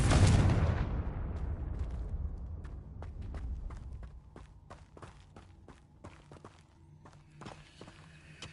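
A Confringo fire spell explodes in the video game Hogwarts Legacy during a fight with a giant spider: a loud, roaring blast that decays over a few seconds, followed by scattered light clicks and taps of game effects.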